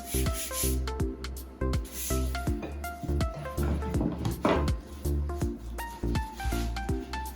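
A rolling pin works cheese cookie dough on a board, making repeated rhythmic rubbing and thudding strokes, close and fairly loud.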